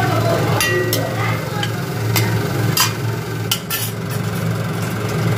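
Onions frying in oil in a kadai until browned for a mutton dish, a constant sizzle under occasional sharp metallic scrapes and clinks of a spatula, close and loud, with a low background hum throughout.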